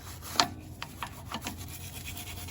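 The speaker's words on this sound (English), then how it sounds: "a couple more times with the wire brush, I think I'll be all right." A wire brush scrubs a truck's slack adjuster on a white GMC cab-over, with several separate rasping strokes, one sharper than the rest, over a low steady background and no talking.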